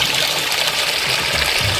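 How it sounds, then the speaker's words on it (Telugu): Water running from a pipeline laid up a hillside near a hill temple, a steady close gushing and trickling flow with a few low gurgles, heard with no talking. "నీళ్ళు కూడా చూడండి చాలా తెల్లగా అయితే పారుతూ ఉన్నాయి"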